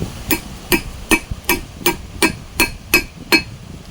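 A new wheel bearing being hammered into a VW Golf 3 with a driver tool, nine sharp metallic strikes at a steady rhythm of about two per second, close and loud.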